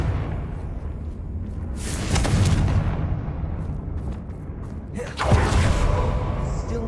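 Confringo spell explosions in Hogwarts Legacy: two loud booming blasts with roaring tails, separated by a few seconds of lower rumbling game ambience.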